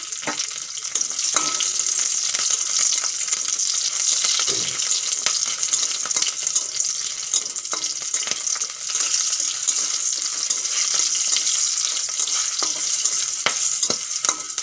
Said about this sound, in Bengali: তেলের উপর দিয়ে দিচ্ছি 4-5 কোয়া গোটা রসুন আর 3টে কাঁচা লঙ্কা।